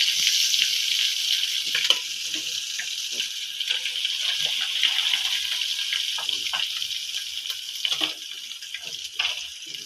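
Fish frying in hot oil, a loud, close, continuous bright sizzle and crackle with occasional sharper pops and spits throughout.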